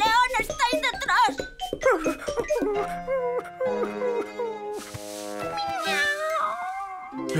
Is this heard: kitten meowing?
yes